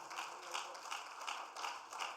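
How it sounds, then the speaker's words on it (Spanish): Church congregation applauding, a continuous moderate round of clapping from a crowd, fairly distant and even, with pulsing bursts throughout. "Apláudale con fuerzas y le va a aplaudir."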